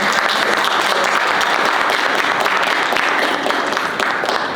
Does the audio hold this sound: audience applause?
yes